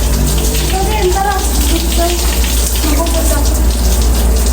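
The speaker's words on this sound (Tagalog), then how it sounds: "Shower na kami dito" Running water pours steadily outdoors as people shower beneath it, a loud, continuous splashing gush close by with faint voices mixed in.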